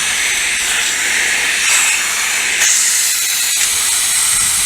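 A plasma cutter slices through metal with a steady, loud, roaring hiss that holds almost unbroken across the whole stretch, swelling slightly at moments, with no voices over it.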